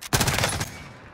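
An MG82 light machine gun firing in Warzone, a single short rapid burst of loud close shots that cuts off and trails into a fading echo.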